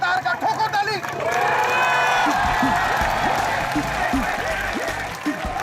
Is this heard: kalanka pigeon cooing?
no